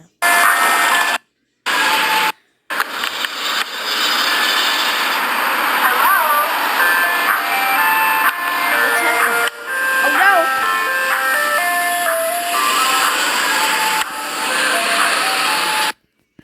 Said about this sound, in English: Anyone surprised to see ice cream truck song?